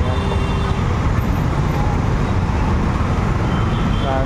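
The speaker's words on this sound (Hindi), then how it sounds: "इतना ट्रैफिक है यार," Heavy road traffic in a busy Bangalore city market roars steadily and loudly close by, a dense mix of engines with faint horn toots, and voices are buried in the din.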